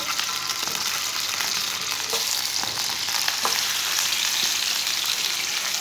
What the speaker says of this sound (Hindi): 1 किलो बकरे का गोश्त डाल लेंगे।